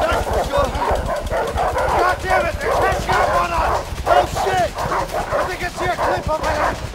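In the video game A Way Out, a pack of dogs barks and yips rapidly and continuously while chasing, close and loud, with panting, whimpering and excited shouting voices mixed in throughout.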